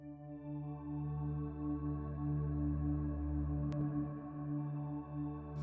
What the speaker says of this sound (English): This is basically just a pad pedaling on D in 3 different octaves.